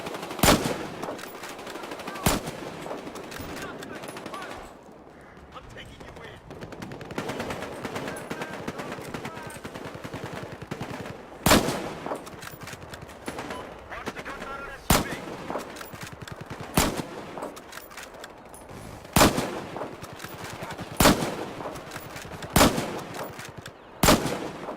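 Gunfire from a sniper rifle and other weapons in the Battlefield: Hardline beta shooter game: loud sharp shots crack out at irregular intervals over a continuous bed of distant battle noise.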